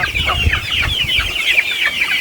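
A large, hungry flock of chickens clucks busily at feeding time, many overlapping close-up calls and squawks with scratching and shuffling underneath.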